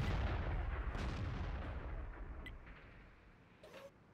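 Artillery gun firing in World of Tanks, a single heavy boom at the start with a long rumbling tail that slowly fades, followed by a faint distant crack near the end.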